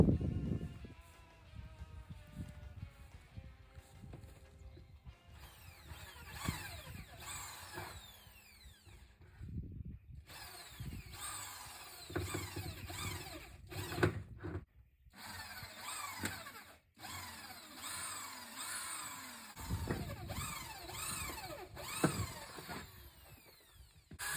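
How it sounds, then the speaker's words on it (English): A power drill whines and grinds through a refrigerator's metal in long bursts, pitch rising and falling under load, with brief pauses between passes. "Drill our hole."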